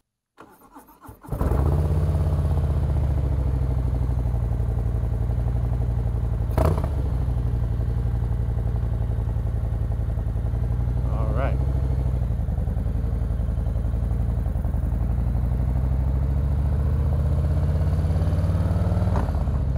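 A Harley-Davidson Low Rider S motorcycle engine cranks and catches, then settles into a loud, low, even rumble that stays steady throughout. A couple of brief clicks and taps sound over it, with no one talking.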